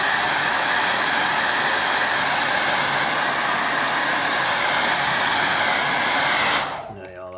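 Loud, steady hair dryer blowing on a small wet watercolour landscape painting of hills and a stream, a continuous airy roar that holds for nearly seven seconds before cutting off abruptly.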